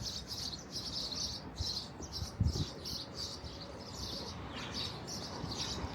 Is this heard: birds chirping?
yes